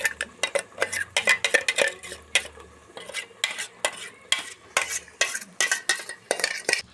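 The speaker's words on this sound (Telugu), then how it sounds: "మంచిగా ఫ్రై అవుతుంది" Onion paste with ginger-garlic and turmeric fries in a pan while a utensil stirs and scrapes against it in quick, loud, irregular strokes over a soft sizzle.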